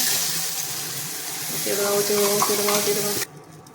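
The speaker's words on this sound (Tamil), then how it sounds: "இப்போ அரைச்சி வச்ச தேங்காய் மசாலா ஊற்றுங்க" Ground coconut masala is poured into a pot of simmering yellow fish curry, giving a soft, steady liquid hiss and bubbling up close that stops abruptly near the end.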